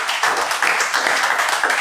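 Congregation at a morning church service clapping and cheering for the Lord, a dense steady wash of applause close by and fairly loud with no break.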